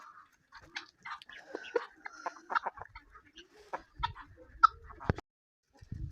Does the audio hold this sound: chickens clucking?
yes